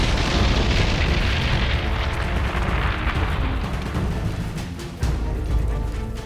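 Artillery shell explosion in a wartime tank battle, a loud sustained rumbling blast with debris and roar lingering, followed by a sharp thump near the end.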